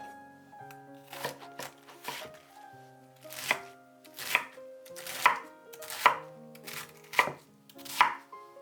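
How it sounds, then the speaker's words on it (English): A knife chopping halved Chinese cabbage into chunks on a board, about a dozen crisp, distinct cuts in an uneven rhythm, close and clear with faint music behind and no talking. "Cut the Chinese cabbage in half. Wash it. Cut it into chunks."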